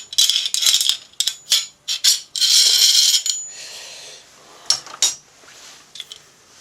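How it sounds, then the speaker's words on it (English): A threaded rod pushing the valve out of the tube of a Crosman 140 air rifle, heard as close metallic rattles, scrapes and clinks in uneven bursts, with a longer grinding stretch midway and scattered taps near the end. "We're going to come in from the rear of the tube and push the valve out the front of the"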